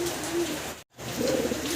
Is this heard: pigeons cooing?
yes